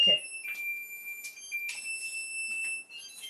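A kitchen oven timer beeps while biscuits bake, a steady high electronic tone pulsing in a few repeated bursts over about three seconds, fairly close and clear, with some light household movement around it.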